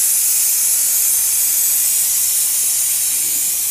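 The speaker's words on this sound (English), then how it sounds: "Brake cleaner." Brake cleaner aerosol sprays continuously onto a Detroit 60 Series engine, a loud, steady, close hiss that runs without a break.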